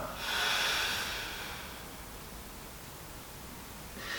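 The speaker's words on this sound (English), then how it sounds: "Now open mouth, audibly exhale." A long, breathy open-mouth exhale during yoga breathing, released after a held inhale. It swells early, then fades into a soft, steady hiss, with another faint breath starting at the end.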